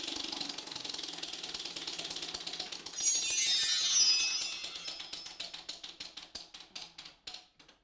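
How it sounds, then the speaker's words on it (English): A game show prize wheel spins with a rapid run of clicks that gradually slow and spread apart until the wheel ticks to a stop, loud and close with no talk. "Go ahead and give me a spin on the wheel."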